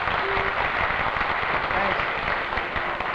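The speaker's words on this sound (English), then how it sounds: "Thanks for clapping." An audience claps continuously for a few seconds, a dense, steady applause heard from within the room.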